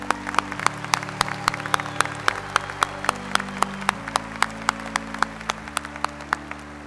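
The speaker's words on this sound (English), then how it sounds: "Have a round of applause for all our doctoral candidates." Audience applause at the 142nd Davis College commencement at West Virginia University for doctoral candidates, steady clapping from a large crowd with sharp, regular claps standing out over a low sustained hum.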